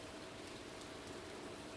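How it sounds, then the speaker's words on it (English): Steady rain falls in the farming video game Stardew Valley, a dense, even hiss with no distinct drops and no talking. "it is raining."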